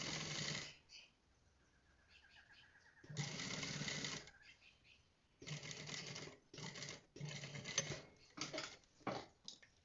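Sewing machine stitching a seat seam on basic trousers, running in several bursts of a second or so separated by pauses, close and fairly loud, with brief talk between runs.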